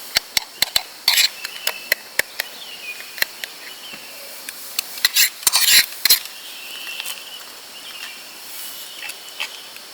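Garlic and spice paste sautéed in a pan over a camp stove on a mountain trail, with steady faint frying hiss broken by frequent sharp metal clinks and scrapes of a utensil against the pan.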